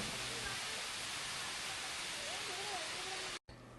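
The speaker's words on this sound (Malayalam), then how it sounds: "ശരിക്കും ഈ വെള്ളം പതിക്കുന്ന സൗണ്ട് വന്ന് ഇടിച്ചു കയറുന്ന നമ്മുടെ മനസ്സിലേക്കാണ്" Aruvikkuzhi waterfall at Thadiyoor in Pathanamthitta, water dropping over rock tiers in a steady, dense roar that fills the scene almost without a break, with a brief cut near the end.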